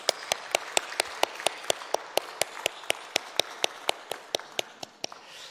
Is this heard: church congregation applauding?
yes